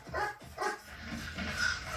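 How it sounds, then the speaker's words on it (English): A dog barks and whines at a moderate distance, a few short yelps in quick succession over steady background noise. "Dog sounds angry."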